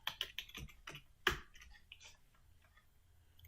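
Fingers tap out a short burst of quick keystrokes on a computer keyboard, a handful of crisp clicks up front and then a few sparse, quieter taps trailing off in a quiet room.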